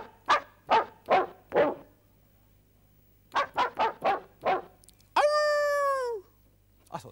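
A 1980 Fairlight CMI computer plays back a sampled dog bark: two quick runs of four or five loud, clipped barks, then a sustained pitched tone made from the bark sample that rings for about a second, with no talking.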